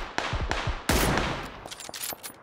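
Bursts of gunfire in an online shooter game, several rapid close shots followed by a dense loud volley and scattered fainter distant shots.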